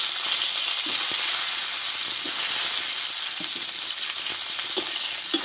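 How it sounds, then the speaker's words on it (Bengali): Cauliflower florets frying in oil, a loud, dense sizzle running without a break, dotted with light scraping knocks from stirring. "এবার এই তেলে আমি কপিগুলোকে কষে নেব"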